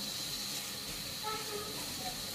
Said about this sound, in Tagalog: naghuhugas ako ng litos